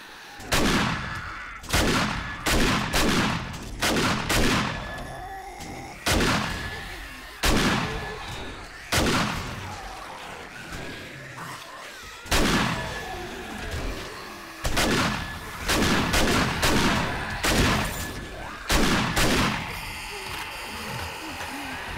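Repeated 12-gauge shotgun blasts ring out in the zombie survival game 7 Days to Die, loud booming shots fired in quick bursts with short reload pauses between volleys.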